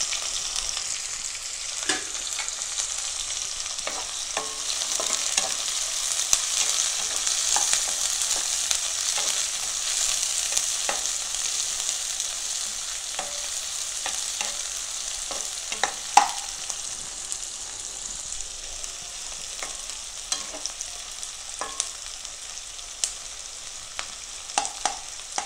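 Sliced large onions sauté steadily in a hot pan for tomato kurma, a constant close sizzle with scattered small pops and occasional stirring clicks throughout, no voices.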